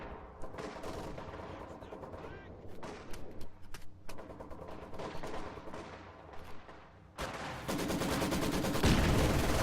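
Mortar half-track firing in a World War II strategy game, with repeated sharp shots and bursts of gunfire through a busy battle mix that grows into a dense, loud roar near the end.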